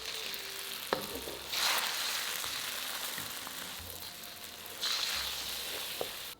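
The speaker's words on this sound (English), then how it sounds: "add the avocado oil, add the eggs, and scramble until partially cooked" Eggs scramble in avocado oil in a hot pan over high heat, a steady broadband sizzle with two louder surges as the eggs hit and are pushed around, plus a couple of sharp utensil taps.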